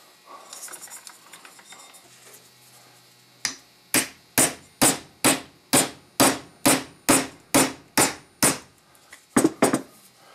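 A hammer strikes a chisel to take apart a train's rear brake valve, giving about a dozen sharp metallic blows in a steady rhythm, close and loud, after a stretch of quieter rustling and handling.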